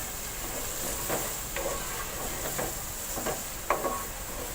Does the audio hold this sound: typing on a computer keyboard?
no